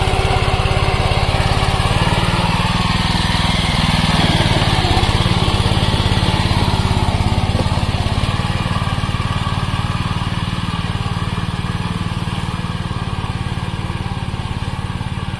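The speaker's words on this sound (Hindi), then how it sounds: "मैं आपको दिखा दूं थोड़ा सा पावर वीडर का" A BCS power weeder tilling soil in a sugarcane field, its small engine running steadily and loudly up close with a constant buzzing drone and churning undertone throughout, without speech.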